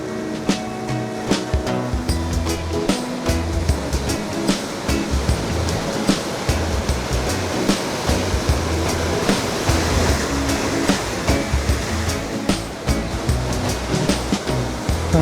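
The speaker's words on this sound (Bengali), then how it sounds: "কি উঁচু ঢেউ!" High ocean waves pound a Bali beach, a loud, continuous roar of surf crashing and churning throughout with no voices.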